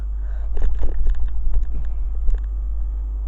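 A Freightliner Class 66 diesel locomotive passes a station with a low, steady rumble and wind buffeting, plus scattered clanks and knocks, fairly close and loud throughout.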